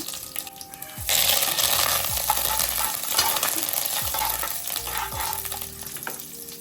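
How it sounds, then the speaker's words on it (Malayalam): Cumin, dried red chillies and mustard seeds frying in hot oil for a Palakkad-style Onam koottu curry tempering. A loud, steady sizzle with faint crackles and popping runs without a break once the seeds go into the pan, and no one speaks. "ഇതാ ജീരകവും വറമുളകും ഇതാ കടുകും പൊട്ടണം"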